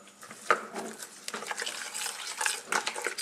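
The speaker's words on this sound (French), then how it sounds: "On mélange avec les 2 cuillères pour essayer de rien" Two spoons stir a parsley and garlic vinaigrette in a bowl, making soft, irregular clinks and wet scraping sounds close by, fairly quiet and without speech.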